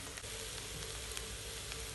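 Onions and tomato with curry leaves sautéing in a pan for a Kerala squid roast, a dense continuous sizzle with faint stirring scrapes, close and steady over two seconds, no talk.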